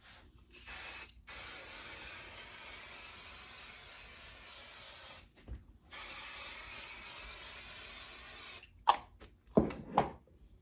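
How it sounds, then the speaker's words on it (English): A spray bottle lightly misting the back of a quilt and its batting: two long, steady hissing bursts, then a few short quick sprays near the end, close and fairly quiet with no speech. "So I'm going to lightly spray the back of my quilt, and I'm also going to lightly spray my batting."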